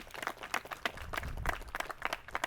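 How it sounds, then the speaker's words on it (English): An outdoor park crowd at a sign unveiling claps in a quick, irregular patter of many hands, moderately loud and continuous for a couple of seconds. "Y'all give him a big round of applause."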